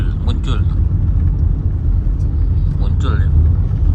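A car rolls along a road with a steady low engine and tyre rumble, heard from inside the cabin, while people talk intermittently over it.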